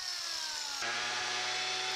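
A power drill boring holes into concrete for anchor bolts, a loud continuous whine under heavy load that shifts pitch partway through and keeps running steadily to the end.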